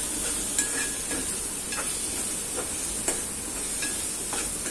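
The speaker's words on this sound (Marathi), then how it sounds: "आता हे चांगलं आपण हलवून घेऊया." A spoon scrapes and stirs besan methi sabzi with coriander and spices in a hot pan, sparse scraping strokes over a steady frying hiss.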